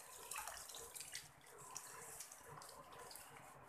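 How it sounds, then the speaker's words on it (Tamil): Tamarind water is poured into a boiling vegetarian fish curry with a faint, continuous splashing and trickling, soft and steady for a few seconds. "புளி ஊற்ற போகிறோம் பாருங்க."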